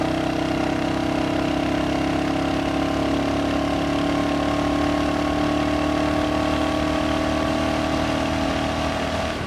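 Royal Enfield Hunter 350 motorcycle engine running steadily while riding at speed, a continuous loud drone with a low, even exhaust hum and wind rush, no talking.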